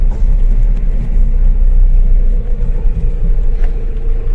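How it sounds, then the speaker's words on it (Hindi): A Mahindra Bolero pickup held in second gear on a rough, badly broken road, giving a loud, close, steady low engine and road rumble with no talking. "रोड ज्यादा खराब है, इस कारण से यहाँ पे हम दो गियर में चला रहे थे"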